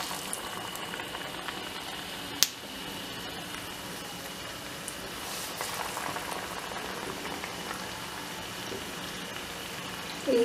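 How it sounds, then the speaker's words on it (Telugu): Batter-dipped banana bajji deep-frying in hot oil, a dense, steady bubbling hiss close by that holds throughout, with one sharp click partway through. "ఇలా పిండిలో ముంచి ఆయిల్ వేయాలి"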